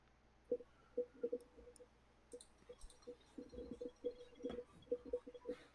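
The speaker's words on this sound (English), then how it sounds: "I think he's typing away." Keys on a computer keyboard clatter in irregular bursts of quick taps with short pauses, close and fairly quiet, with no talking over them.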